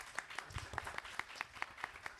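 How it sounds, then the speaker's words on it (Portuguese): Applause for a speaker at an architecture talk event: a brief, quiet round of clapping from a small audience, with distinct claps falling in a loose, fairly regular rhythm. "Uma salva de palmas para Camila."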